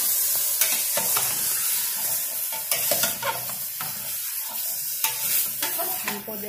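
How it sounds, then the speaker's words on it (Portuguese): Beef tripe sautés in a pan for a Brazilian dobradinha, giving a steady close sizzle broken by repeated scraping and clacking as it is stirred, with no talk. "agora eu vou deixar ele refogar um pouquinho."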